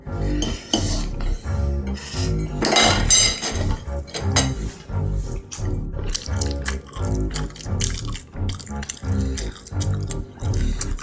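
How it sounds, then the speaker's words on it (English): Silverware clinks and clatters in the video game Gotham Knights, a run of bright metallic chinks and dish knocks in irregular bursts, fairly close and loud, with a voice speaking between them. "Piece of shit silverware."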